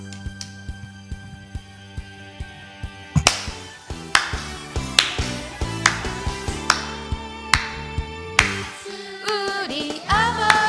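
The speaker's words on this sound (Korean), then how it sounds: "일어나서 또 새 찬양으로 박수치고 율동하면서 우리 주님께 마음과 정성과 뜻을 다해" At a church youth worship service, a congregation claps along to a praise song in a steady beat of sharp, close hand claps over music, and the clapping grows fuller partway through.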